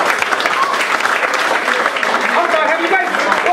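A comedy club audience applauds steadily throughout, a dense close wash of clapping from a small crowd with a few whoops mixed in.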